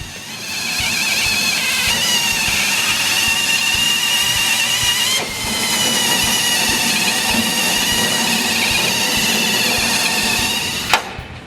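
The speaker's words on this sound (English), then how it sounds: "Drill out the spot welds that hold the e-brake cable bracket to the frame rail" Close power drill whining at high speed as it drills out spot welds on a Mustang frame rail, two long sustained runs with a short pause between and a sharp clank at the end.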